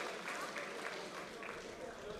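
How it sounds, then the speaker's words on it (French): Audience applauding after a round of a school robot competition at SwissEurobot, a steady wash of clapping heard from a distance with a French-speaking announcer talking over it. "On peut les applaudir très très fort."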